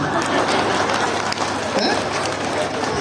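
Steady applause from an audience at a Hindi kavi sammelan (poetry gathering) held for an Oswal Holi celebration, a continuous dense patter of clapping filling the hall.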